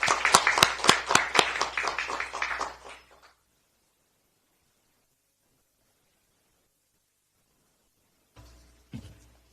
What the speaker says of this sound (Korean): 힘차게 박수를 한번 보내주시기 바라겠습니다